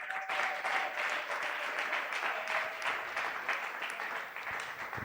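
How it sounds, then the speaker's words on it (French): A church congregation at a Sunday praise and thanksgiving service applauds and cheers for Jesus, a dense, steady wash of clapping and voices that carries on throughout without letup. "Est-ce que tu peux acclamer très fort pour la gloire de Jésus?"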